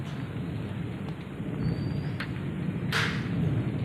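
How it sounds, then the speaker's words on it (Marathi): Hail and heavy rain rattle continuously on a roof in an unseasonal Konkan storm, a steady dense hiss and patter with a few sharper knocks, close and loud, with no voices. "वरती पडतं आवाज कसा येतो"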